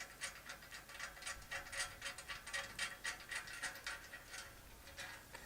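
A bolt being snugged down with hand wrenches during a propane tank storage and hammock stand build in a bus conversion, giving quiet repeated ratcheting clicks in a steady rhythm, close by with no talking.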